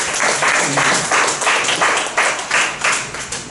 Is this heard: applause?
yes